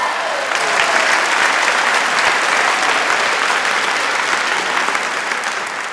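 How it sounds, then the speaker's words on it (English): Steady applause from an audience at a live comedy talk event, sustained and dense for the full six seconds with no voices over it. "Round of applause"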